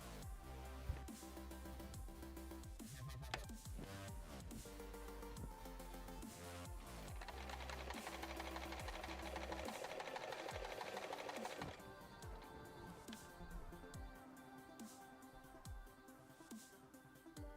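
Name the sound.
sewing machine stitching a zigzag stitch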